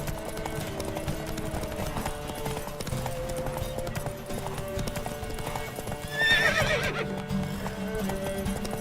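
Hooves of Geralt's horse Roach clip-clopping steadily in the video game The Witcher 3, a continuous rhythmic trot over game music, with a brief louder burst and a whinny near the middle.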